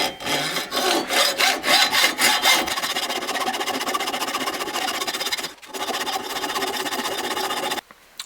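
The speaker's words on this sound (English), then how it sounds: "I'm going to turn the vise so that we can cut this way down the rest of the gearbox" A hand saw cuts through an airsoft gearbox clamped in a vise, with rapid rhythmic rasping strokes at first, then a steadier continuous grind, one brief pause and a stop at the end.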